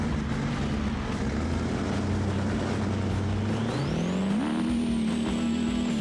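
A BeamNG D-Series pickup truck revs at the line of a mud drag strip in a video game: a steady loud engine drone climbs sharply in pitch near the end as the revs rise, continuous and close, with no talking.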